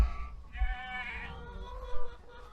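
A sheep bleats from a pen on a farm with lambs and paddocks, one long wavering call followed by softer trailing bleats, fairly close and without speech.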